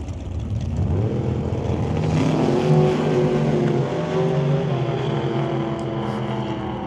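A drag racing car tears through a qualifying run at an old-time drag event at Mission Raceway Park, its loud engine roaring and climbing steadily in pitch, then easing off, heard close and continuous without talk.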